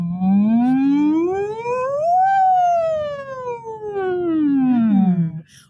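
A single voice imitates an ambulance siren as a vocal warm-up, sliding smoothly up in pitch and then back down in one long, loud, sustained wail.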